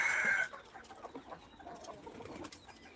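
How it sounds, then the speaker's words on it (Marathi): Desi country hens on a village farm give a loud clucking call at the start, then softer scattered clucks and coos continue at close range with no talk. "सगळ्या कोंबड्या बाहेर निघल्या आहेत बाहेर चालल्यात"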